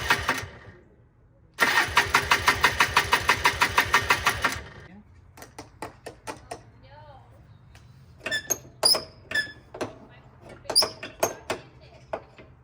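A 1995 Polaris Trail Boss 250 ATV with backfire trouble cranks in a fast, loud rhythmic burst that stops abruptly, followed by sparse clicks and short mechanical noises, with a voice speaking now and then.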